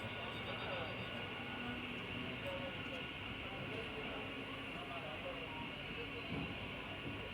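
Freight train of oil tanker wagons carrying crude oil rumbles past at a distance in a steady, faint, continuous roll, with wheel and rail noise and a voice speaking over it.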